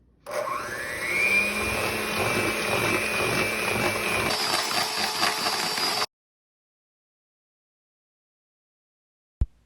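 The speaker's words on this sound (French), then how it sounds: "ajoutez les œufs, un à la fois, et battre jusqu'à ce que le mélange devienne crémeux et homogène" An electric hand mixer beats eggs into a creamy batter, whining steadily and loudly for about six seconds with a pitch change partway through, then cuts off to silence before a single sharp knock near the end.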